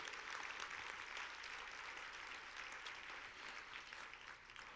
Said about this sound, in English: So please give yourselves a round of applause for the incredible work that you've been able to do.